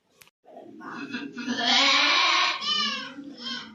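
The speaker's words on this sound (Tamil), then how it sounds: "இந்த ஆடு வீட்டுக்குள்ளேயே எங்கள் கூடயே வளர்ந்ததுனால இது கத்துறது பார்க்க ரொம்ப கஷ்டமாக இருக்குது" A goat bleats loudly and close, a long wavering cry that swells and then breaks into a shakier, quavering call near its end, after a brief click at the start.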